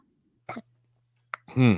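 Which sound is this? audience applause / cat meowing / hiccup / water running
hiccup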